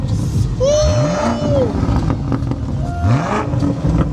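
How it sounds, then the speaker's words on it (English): A BMW performance car's engine revs loudly and close at an auto detailing shop launch, with two rising-and-falling throttle blips over a busy background. "See, sounds like a BMW."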